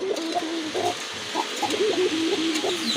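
A pair of crested pigeons coos in repeated low, throaty phrases close by, the calls rising and falling in a steady rhythm with no talking.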